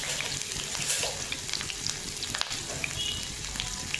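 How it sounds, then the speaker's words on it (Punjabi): Garlic and ginger sizzle steadily in hot oil for Punjabi-style aloo kasuri methi, a continuous close frying hiss with a few soft stirring clicks and no talk. "ਪਹਿਲਾਂ ਆਪਾਂ ਇਹਦੇ ਵਿੱਚ ਪਾਵਾਂਗੇ ਲਸਣ ਤੇ ਅਦਰਕ ਆਪਾਂ ਲਸਣ ਅਦਰਕ ਪਾ ਦਾਂਗੇ"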